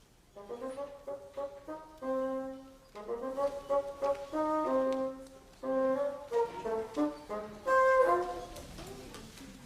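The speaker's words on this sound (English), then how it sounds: "it's the bassoon, which Betty is holding here." A bassoon plays a short melodic phrase of several reedy, low sustained notes with brief pauses, clear and close, with no talking.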